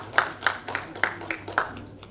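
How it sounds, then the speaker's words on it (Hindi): An audience at the Imperia Awards 2021 ceremony claps to welcome a television actor: sharp, spaced hand claps in a loose, uneven rhythm, fairly close, with a faint steady hum underneath. "तालियों से स्वागत किया जाए अभय प्रताप सिंह।"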